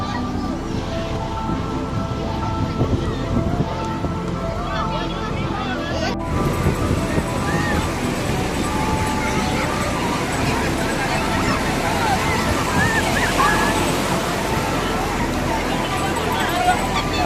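At Puri beach, sea waves wash in as a loud, continuous roar of surf with wind, and a crowd murmurs faintly in the background throughout.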